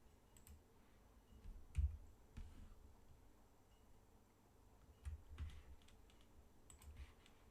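Someone enters a login name and password on a computer keyboard, producing faint, scattered keystroke clicks with a couple of slightly louder taps and no voice over them.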